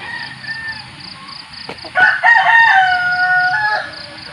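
A mestizo fighting rooster, a cross rather than a hybrid, crows once loud and close, the drawn-out call rising over a steady background chirping from other birds.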